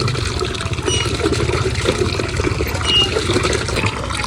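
Water is drawn and poured for laundry at home, a steady close splashing and trickling flow that continues without a break and with no talking.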